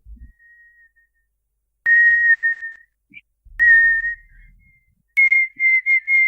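Clear whistled tune of the children's song "Meunier, tu dors" in short melodic phrases, alone, with a few soft knocks and thumps of tapping on a table between the notes.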